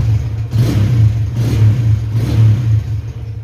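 A used car's engine runs loud and close, revving in three rising surges over a steady rumbling idle, with no speech over it.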